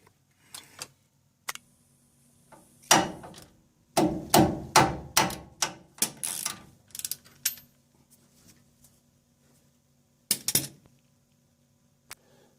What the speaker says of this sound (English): now I'll undo these two bolts down there behind the caliper.